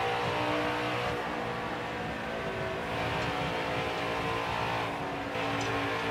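A NASCAR race car engine in the NASCAR Heat 4 video game, heard from the in-car view: a steady, dense, loud engine drone that holds on throughout without a break, with no voices.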